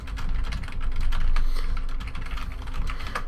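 Rapid computer keyboard and mouse clicking during Hearthstone card analysis, with dense, irregular keystrokes close to the microphone and no talk.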